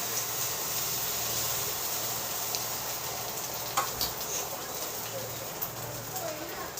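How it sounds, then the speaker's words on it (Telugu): Omelette egg mixture sizzling in an oiled pan, a steady loud hiss of frying that holds throughout, with a few faint clicks and small pops near the end. "ఓకే, ఇప్పుడు ఈ మిక్చర్ని ప్యాన్ పైన పోసుకోవాలి."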